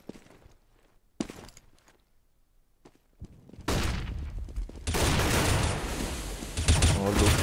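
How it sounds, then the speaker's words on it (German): Sniper fire and other gunshots from the AWP in a Counter-Strike esports match on the Cobblestone map, with a few sharp bursts among quieter stretches and then dense, loud sustained firing and game noise toward the end. "Kräuter mit der AWP 2-mal zugeschlagen."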